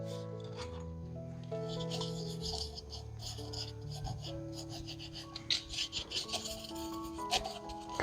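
A fingertip rubs a sprinkle of soil over glue on a model building facade, a soft close scratchy rasping in short strokes, growing choppier toward the end over faint background tones.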